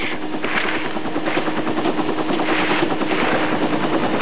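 Military helicopters airlifting Marines behind enemy positions during the Vietnam War, a loud, steady rotor throb and engine roar that holds without a break throughout.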